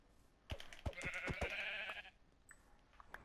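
Sheep in the Minecraft video game bleat in a quavering, wavering call, preceded by a few sharp clicks and followed by faint scattered game sounds, fairly quiet overall.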